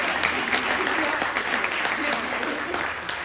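An audience at a celebration marking the Reproductive Privacy Act's fifth anniversary gives steady, sustained applause mixed with voices from the crowd.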